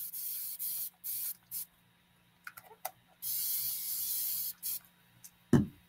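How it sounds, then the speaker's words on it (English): A spray bottle mists water onto hair in several short, close bursts of hissing spray separated by pauses, with no talking. "I'm spraying it with water."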